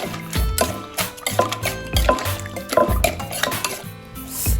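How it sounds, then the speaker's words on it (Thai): Utensils clink and scrape against a bowl while Thai crab papaya salad is tossed with palm sugar and tamarind juice, a steady rhythm of close, bright taps and knocks with faint wet sounds. "คลุกเคล้าให้เข้ากันเลย"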